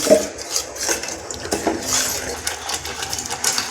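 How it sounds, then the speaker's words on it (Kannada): Ground masala paste for masala puri being stirred and fried in a pan, with a spoon clinking and scraping against the metal in steady, busy strokes, close and moderately loud, with no speech. "ಈ ಥರ ಫ್ರೈ ಮಾಡ್ಕೋಬೇಕು ನೀಟಾಗಿ ಮಿಕ್ಸ್ ಮಾಡ್ಕೋಬೇಕು"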